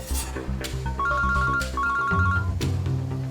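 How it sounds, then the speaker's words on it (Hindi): Phone ringing with a repeating electronic ringtone melody, two bursts of the tune close and fairly loud over background music, with no voices. "दया फोन कर रहा है।"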